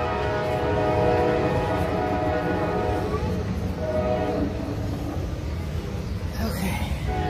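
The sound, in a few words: train passing by with horn blowing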